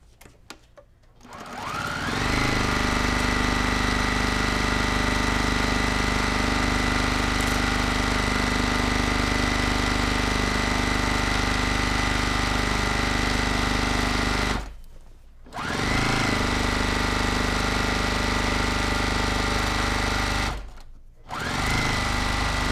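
Sewing machine running steadily while stitching quilt backing, a loud continuous motor drone with a faint needle rhythm that stops twice briefly near the end before resuming.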